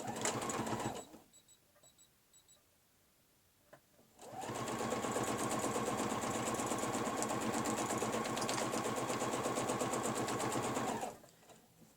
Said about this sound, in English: The sewing machine shouts at you, ignore it.